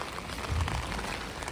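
Steady rain falls during a wet walk along Mall Road in Nainital, India, a continuous soft hiss of drops on surfaces that stays even and fairly close for the whole moment, with no voices.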